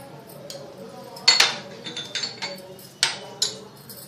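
Clinks of a metal spoon against a pan as two spoons of ghee go in for carrot halwa, several sharp taps spaced out over a low kitchen background.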